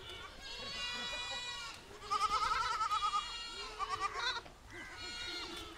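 Goats bleat repeatedly on a large Kerala goat farm, several loud wavering calls overlapping in bursts from a nearby herd gathered around piled jackfruit leaves.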